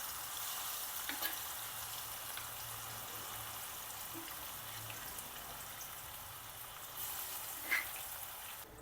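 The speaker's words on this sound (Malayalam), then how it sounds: "ഇനി നമുക്ക് ചിക്കൻ ഫ്രൈ ആക്കി എടുക്കാം" Chicken pieces for pickle fry in hot oil in a wide flat pan, giving a steady, quiet sizzle throughout with no voices and a few small scrapes and pops near the end.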